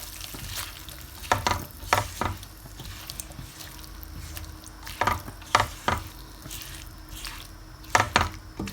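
Chicken and broccoli stir fry cooking with a cornflour-and-water slurry sizzles softly in the pan, broken by several sharp scraping and stirring strokes at close range, with no talking over it.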